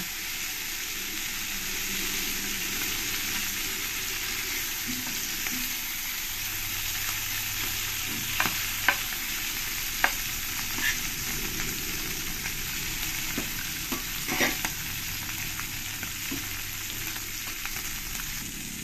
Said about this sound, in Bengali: এবার পরের মাছগুলো আমি একই রকম করে ভেজে নেব।